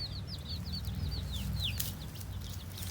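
A curious rooster near a duck-egg hatching setup makes a quick run of soft, high clucks close by, over a low background hum with no speech.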